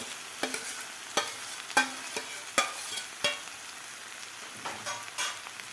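Mashed brinjal being stirred into sautéed spring onions in a pan for Khandeshi vangyache bharit, with soft sizzling and a series of sharp spoon scrapes and taps against the pan at irregular intervals, close and fairly quiet.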